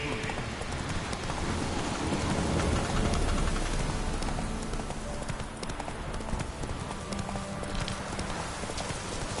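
Horse hooves clip-clopping in a rapid galloping rhythm from The Witcher 3 game, steady and fairly loud over a rainy, noisy background.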